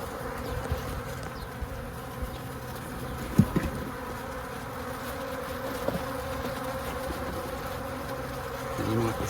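A swarm of honey bees held in a laundry basket hums in a dense, steady buzz, with a few brief louder bumps standing out against the drone.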